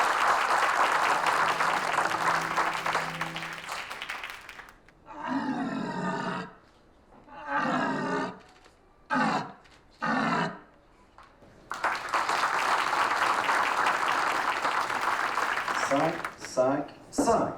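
A crowd applauds a French champion at a competition, broad roaring clapping rising for several seconds, breaking off while a voice speaks, then surging again loud and sustained.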